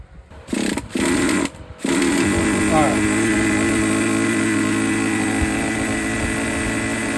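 A Traxxas T-Maxx nitro RC truck engine idling at its lowest setting, a steady buzzing drone after a couple of brief revs and cutouts at the start, close and loud.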